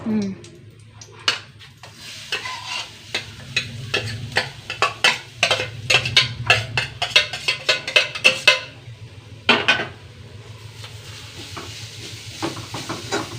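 Grated coconut roasting in a little oil in a pan, with rapid repeated stirring scrapes and clinks over a low sizzle, a voice speaking at times.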